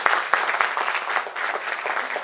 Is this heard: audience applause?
yes